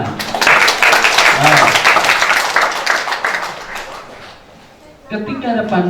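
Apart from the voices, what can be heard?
church congregation applause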